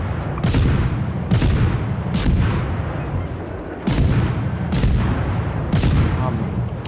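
Repeated heavy warship gun salvos in World of Warships, fired blind into a smoke screen, booming at irregular intervals about once a second with loud sustained rumble between shots.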